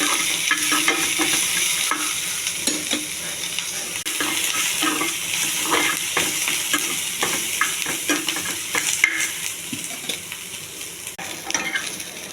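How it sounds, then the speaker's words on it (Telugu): Cinnamon, cloves, bay leaf, green chilli and curry leaves fry in hot oil for chicken curry, a steady close sizzle with frequent stirring and utensil scrapes throughout, no talking. "చెక్క, లవంగం, బిర్యానీ ఆకు, పచ్చిమిర్చి, కరివేపాకు ఇవన్నీ వేసి కొంచెం బాగా వేగనివ్వాలి."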